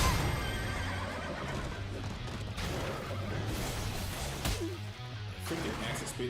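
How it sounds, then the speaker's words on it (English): Acid-spitting horse creature in a video game neighing and whinnying loudly over busy game noise and clip-clop hoofbeats, continuous through the clip with occasional crashes. "Freaking acid spitting horse."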